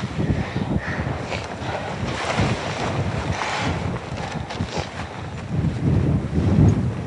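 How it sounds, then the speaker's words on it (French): Strong wind buffeting the microphone high on the south ridge of Everest, a steady loud roar with gusty swells and low rumbling bursts throughout. "Il fait froid à cause du vent."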